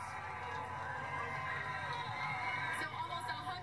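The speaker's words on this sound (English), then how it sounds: "It's like the sun's getting a bigger cheer." A huge outdoor crowd of tens of thousands gathered in Madras, Oregon cheers as a total solar eclipse ends, distant whoops and shouts spreading across the field with nearby voices talking underneath.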